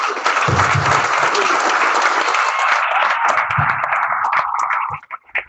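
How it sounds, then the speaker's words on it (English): A large audience of young people at an Ozark city meeting breaks into loud, dense applause that stays steady and close for several seconds, then thins out into a few scattered claps at the end. "just give yourself another round of applause"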